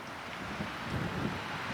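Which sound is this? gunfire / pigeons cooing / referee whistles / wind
wind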